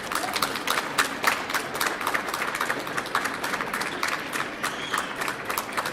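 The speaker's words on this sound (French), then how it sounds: "Et on peut aussi l'applaudir." An audience claps for several seconds, dense, even applause from a modest crowd, steady and moderately loud, with no voices over it.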